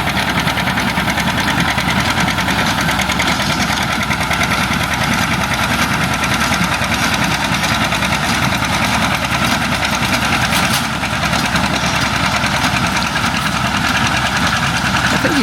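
A 720 tractor engine running steadily while baling hay, a loud, dense, knocking diesel drone that holds constant throughout, close up with no voices.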